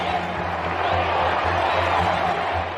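A large crowd cheers and roars for the royal kiss on the Buckingham Palace balcony at a royal wedding, a broad, steady wash of distant noise that holds at an even level throughout.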